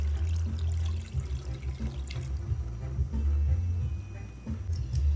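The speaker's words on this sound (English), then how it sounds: "I'm adding some water" Water pours and splashes into a container in a quiet, uneven trickle over a low background hum.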